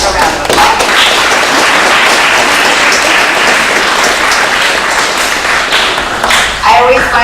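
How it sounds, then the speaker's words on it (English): A graduation audience at the Carl D Perkins Vocational Training Center claps for the grandparents. The applause is dense and sustained, with steady crowd clapping and light scattered thuds that continue for several seconds. "So graduates, please give your grandparents a round of applause."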